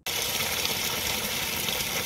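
Wheat grains are washed in water for a village-style sohan halwa recipe, with a steady, loud rush of pouring and sloshing water that starts abruptly and continues without break, close to the listener.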